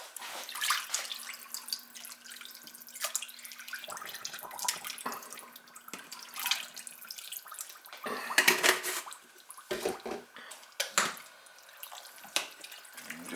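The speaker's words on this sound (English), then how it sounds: "I'll add a little water to that." Water splashes and trickles into a crockpot of stew with potatoes, in a few bursts of pouring. The loudest gush comes near the middle and quieter splashes follow. There is a faint steady hum underneath and no talking.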